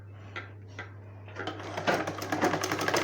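Automatic sewing machine stitching blouse fabric: a faint start with a few soft taps, then a steady, fast mechanical rattle of needle strokes building up over a low constant motor hum, with no talking.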